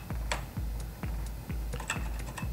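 Keys tapped on a Texas Instruments TI-99/4A computer keyboard, about five distinct clacks spaced roughly half a second apart, close and clear with no talking.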